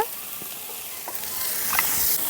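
Ginger paste goes into a pan of fried bata fish, setting off a steady sizzling hiss that swells gradually, with a few light clinks and stirring noises.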